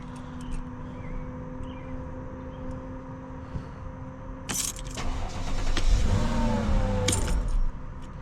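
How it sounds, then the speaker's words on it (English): A car is switched on with its key after installation of a new pump, reservoir and filter: faint keys jangle, then a brief starter crank is followed by the engine catching and settling into a steady idle. "Turn on the car with the key."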